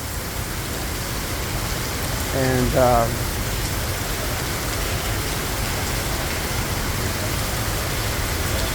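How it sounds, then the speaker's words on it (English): Heavy rain pours steadily at night in Quezon City, Philippines, a dense close hiss filling the whole clip while someone speaks briefly over it. "And as you can see, boy, we got a lot of rain."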